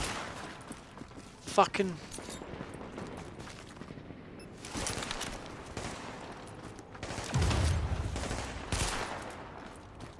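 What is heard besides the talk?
explosive bullet gunfire in The Division video game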